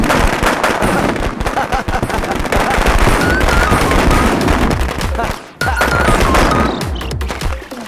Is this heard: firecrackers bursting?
yes